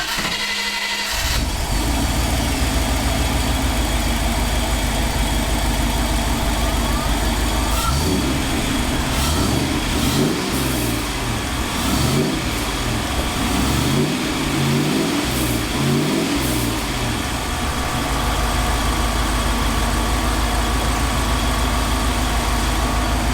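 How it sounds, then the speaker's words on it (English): Classic Land Rover engine fitted with a new ignition coil, idling smoothly up close, then blipped through a series of quick revs mid-way before settling back to a steady idle. "As ever, static revving really doesn't mean a lot, but it's smooth as hell"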